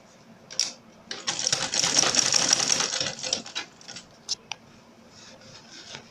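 A sewing machine stitches fabric for a laptop backpack, a close, steady mechanical whirring run of a couple of seconds followed by a few short bursts and clicks.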